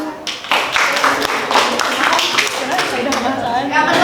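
Students in a classroom clap for a classmate, a burst of scattered hand claps mixed with voices and chatter.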